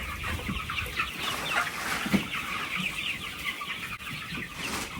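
Organic heritage-breed chickens in a flock cluck and murmur steadily at moderate distance, with many overlapping calls in a continuous farmyard hum.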